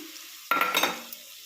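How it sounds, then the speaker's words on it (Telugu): Soya chunks (meal maker) drop into a simmering curry with a sudden sharp sizzle and brief stirring clatter, fading to a faint hiss within a second; close, no talking. "ఇప్పుడు మీల్ మేకర్ వేసుకుందాం కర్రీలో ఇవి కూడా కొంచెం వేగాలి"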